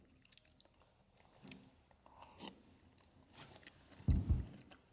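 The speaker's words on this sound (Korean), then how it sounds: "빠르게 김치찌개 국물부터 먹어보겠습니다" Kimchi jjigae broth with plenty of pork being eaten up close: mostly quiet, soft sips and wet chewing, then a louder burst of slurping and mouth sounds near the end.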